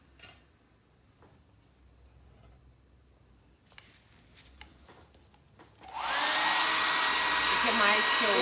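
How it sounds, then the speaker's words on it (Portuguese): A hair dryer switches on with a loud, steady whoosh and keeps blowing to dry plaster putty on a plaster piece being restored, after a few seconds of quiet handling clicks and taps. "ideal é secar com o secador ou deixar do jeito assim? Pode secar com a secadora."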